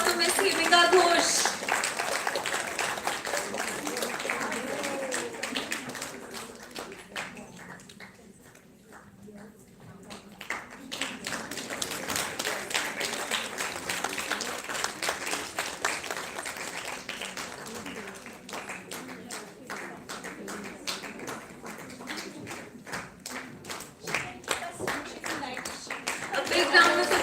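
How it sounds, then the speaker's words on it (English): Scattered audience clapping at a women's health conclave in Chandigarh, a thin, uneven patter of individual claps that dips quiet for a moment midway, then picks back up and swells slightly near the end. "A big round of applause for Miss Himika Ghosh."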